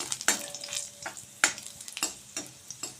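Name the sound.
garlic and dried chilli frying and being stirred in mustard oil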